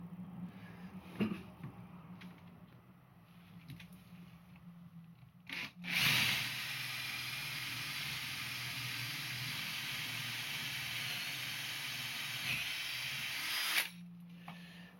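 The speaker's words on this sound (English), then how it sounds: "that's my first hole drilled straight through all my soundproofing and into the other side" A drill boring a hole through vocal booth soundproofing, quiet handling noise first, then a sustained loud grinding whir for about eight seconds before it cuts off, heard close with no speech.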